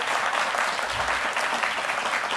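Television studio audience applauding an Olympic champion named Cheikh, a dense, steady roar of clapping with no talk.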